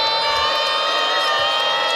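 A basketball crowd at a Florida State vs Florida men's college game keeps up a dense, steady roar of cheering and shouting for the full two seconds, with no pauses.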